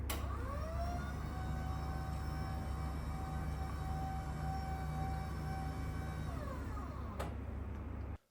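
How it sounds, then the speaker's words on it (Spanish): FlexiSpot E8 electric standing desk motors raising the desk, a steady low hum with a rising whine that levels into a constant tone, then slows and stops abruptly near the end. "los motores son súper silenciosos, no molestan apenas nada. Aquí tenéis una demostración."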